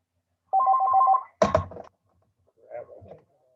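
A landline telephone rings once in a steady electronic trill, followed by a sharp clunk as the handset is picked up and then a short, muffled burst of sound at moderate distance.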